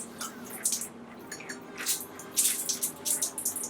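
Rice water rinse poured by hand over raked-forward 3B curly hair, giving soft, uneven splashing and trickling in close bursts with brief pauses between pours.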